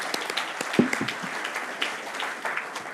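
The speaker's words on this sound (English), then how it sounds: "Let's give him a round of applause." An audience at the Swiss Who's Who NextGen Awards 2025 ceremony gives a short burst of applause, with moderate scattered clapping that begins sharply and then thins out.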